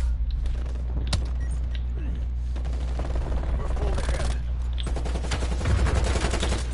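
Rapid bursts of automatic gunfire crackle through a Call of Duty Cold War match in dense, overlapping volleys, with a player talking over the shooting.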